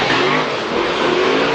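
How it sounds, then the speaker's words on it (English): A BMW drift car with a loud aftermarket exhaust revs hard during a Formula Drift competition run in New Jersey, a continuous loud, close roar holding steady through the clip. "The loudmouth exhaust BMW pulling a little bit away there from Essa."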